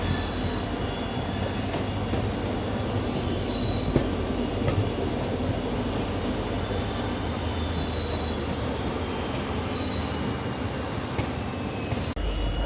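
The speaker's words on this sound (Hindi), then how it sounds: "फाइनली 3:10 पे अपनी ट्रेन अब राजपुरा जंक्शन पे" A crowded Barmer-Rishikesh Express passenger train rolls into Rajpura Junction, with a steady rumble of wheels on track, high squealing wheel tones and occasional clicks, continuous and fairly close with no talking.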